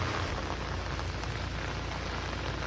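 Dense, steady roar of heavy monsoon rain pouring down in a village near Mangalore, loud and unbroken throughout, with no voices.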